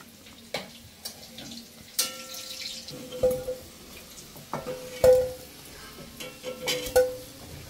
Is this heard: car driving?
no